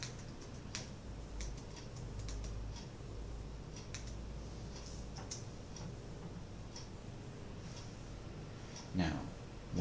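Fingers tap rapidly on a computer keyboard, producing quick light clicks in short irregular bursts, close and quiet under a low background hum, while someone keeps talking faintly.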